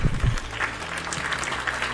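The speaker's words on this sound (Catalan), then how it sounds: "Molt bé, un aplaudiment per vosaltres." Brief applause from a group, a short burst of clapping with some low rumble and voices underneath.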